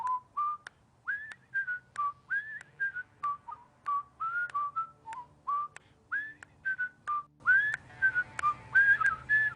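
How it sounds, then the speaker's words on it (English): A man whistling the Andy Griffith Show theme, a clear solo melody of short, pitched whistled phrases in a steady tune, close and distinct with no talking. "You gotta fucking see this dude whistling, man."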